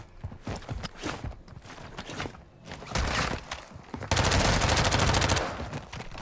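Bursts of video game gunfire, with scattered shots early on and then a loud, sustained rapid volley that fills the last couple of seconds.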